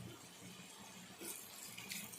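Water runs steadily from a tap into a curry pot with a soft splashing hiss, growing slightly brighter partway through; no voices.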